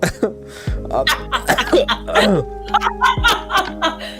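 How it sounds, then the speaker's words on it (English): A series of short, sharp post-COVID coughs in quick succession, close and fairly loud, over a faint steady tonal hum. "Don't mind the cough. Not a smoker's cough"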